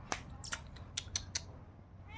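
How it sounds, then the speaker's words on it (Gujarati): A cat meows in several short, fairly close calls spaced irregularly over two seconds, over quiet indoor background. "મીંદડીને દેખાડી મેં મીંદડીને ફેમસ કરી દઈ."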